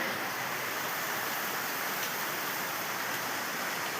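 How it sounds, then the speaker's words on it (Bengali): Heavy rain falls at night during a storm as a steady, dense hiss with no breaks, moderately loud and even throughout. "এখানে কিরকম বৃষ্টি হচ্ছে দেখো, এখন বাজে রাত্রি 11:30।"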